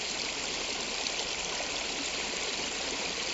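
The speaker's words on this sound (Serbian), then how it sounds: "Odavde ide ova mutna, siva voda, otpadna voda, prepuno koje kakvih hemikalija" Murky grey wastewater, thick with chemicals, pours steadily into the Timok river near the Čukaru Peki mine in Serbia. It makes a loud, unbroken rushing stream that goes on by itself with no voices.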